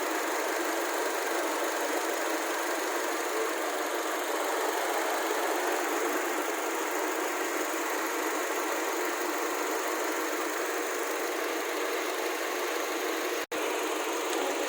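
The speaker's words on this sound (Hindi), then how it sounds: "देखिए दोस्तों, हमारा इंजन कैसे मिस फायर मार रहा है, हिल रहा है।" A Hyundai Verna engine misfires and vibrates, giving a steady, close, rough mechanical drone with no talk, broken by one brief click near the end.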